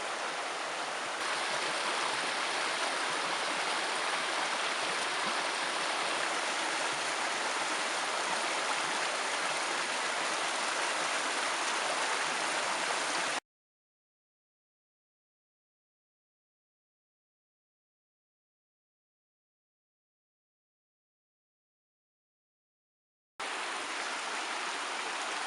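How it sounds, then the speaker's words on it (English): Small stream gurgling over rocks through little mini waterfalls at an off-grid site, a steady, close, rushing wash of water that goes silent for about ten seconds midway and then resumes. "I do like how the rocks make the little mini waterfalls and"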